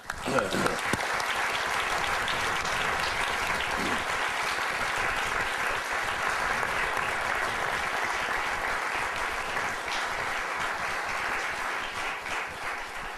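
An audience gives sustained, even applause welcoming a speaker to the stage at a corporate event, a dense wash of clapping that stays steady throughout with little variation.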